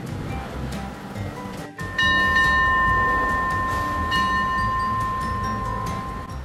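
Thai passenger train pulling into a railway station near Pattaya, with a broad rumbling roar and a steady high squeal of wheels or brakes that holds for several seconds, loud and close, with no talk.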